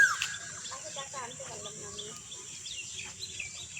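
Cuckoo (koel) calling on a morning roadside: faint whistled notes rise over steady background hum while a person talks nearby.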